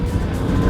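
A Honda with a Y7 single-cam engine warms up on a steady, rumbling idle, close and continuous, with no voices over it.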